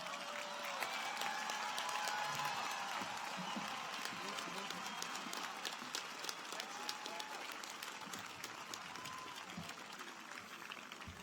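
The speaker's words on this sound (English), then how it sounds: "let's give Trustee Higginbotham another warm applause" A crowd at a university undergraduate commencement applauds a trustee speaker, a long, steady roar of clapping with scattered cheers and voices, heard from a distance and fairly quiet.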